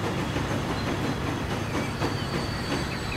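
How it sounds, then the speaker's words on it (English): A train rolls past in the Transport Fever rail simulation on a Great Lakes loop, a steady close rumble with rhythmic clickety-clack of wheels over track joints and a faint hiss, running continuously without a break. "I see another train. There's the other train."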